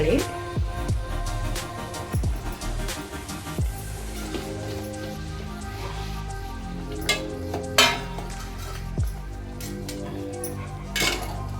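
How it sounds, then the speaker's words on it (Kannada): Okra frying in a pan on a home stove, with steady oil sizzle under repeated clinks and scrapes of a metal spoon stirring against the pan. "ಬೆಂಡೆಕಾಯಿ ಹಾಕ್ತೀನಿ ಈ ಥರ ಫ್ರೈ ಮಾಡ್ಕೋಬೇಕು"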